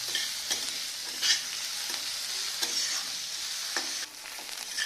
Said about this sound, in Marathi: दोन मोठ्या आकाराचे कांदे आपण भाजून घेत आहोत